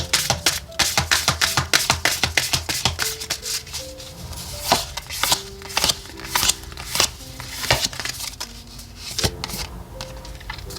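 Tarot and oracle cards are shuffled and laid down in a dense run of crisp slaps and flicking riffles, close and continuous, with no talking.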